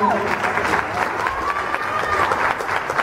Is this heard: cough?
no